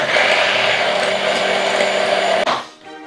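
A blender whirs loudly and steadily as it mixes whisky with vegetable oil for a sandwich sauce, then cuts off abruptly near the end, leaving a brief fading hum.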